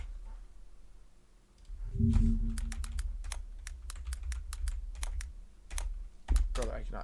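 Computer keyboard typing in a crisp run of distinct key clicks at a moderate, uneven pace, close and clear, with a low hum and a brief voice mixed in.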